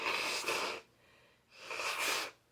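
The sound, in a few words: blowing nose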